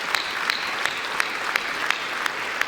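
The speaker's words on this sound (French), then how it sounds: "Oui, on peut les applaudir très fort" A hall audience applauds Paralympic medallists at a New Year's greetings ceremony, steady massed clapping with a few sharper claps punctuating it evenly throughout.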